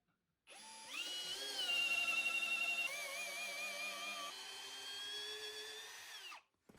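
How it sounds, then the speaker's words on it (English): A cordless drill set to drilling mode spins up with a whine, holds a steady high-pitched running tone for about six seconds, then winds down; it is heard alone while a roof frame of ridge beam and rafters is being built. "We're gonna set it to drilling."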